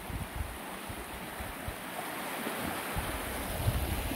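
A year-round creek runs full after hard rain, giving a steady, soft wash of flowing water outdoors with some faint breeze noise and no talking.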